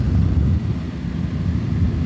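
Yamaha YZF-R9 sport motorcycle cruising at speed on a highway, a steady low engine drone mixed with heavy wind rush, loud and continuous throughout.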